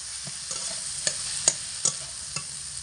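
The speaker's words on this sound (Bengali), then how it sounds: "আলু, টমেটো, পেঁয়াজ, রসুন সব একসঙ্গে ভালো করে কষাতে হবে" Potato, tomato, onion and garlic stir-frying together in a pan over medium heat: a steady bright sizzle with a spoon scraping and tapping the pan every half second or so.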